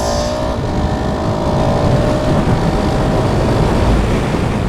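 Husqvarna 701 Supermoto single-cylinder motorcycle engine revving loudly and steadily outdoors, a continuous close drone with wind noise and no talking.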